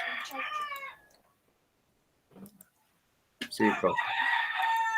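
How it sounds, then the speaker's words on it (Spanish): A rooster crows loudly and close at the start, with a brief voice later and another burst of crowing or calls at the end. "Se extrañaba su gallo"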